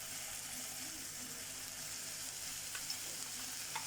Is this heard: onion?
yes